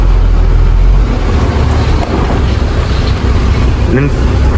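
A loaded lorry carrying mutton pulls to a stop with its air brakes on a rough forest road in Maharashtra. A loud, close engine rumble ends in a short hiss while people talk nearby.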